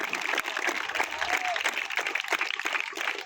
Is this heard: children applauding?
yes